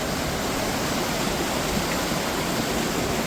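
A strong river current pours and rushes in a constant, loud wash of broadband noise, too deep to stand in, with no pauses.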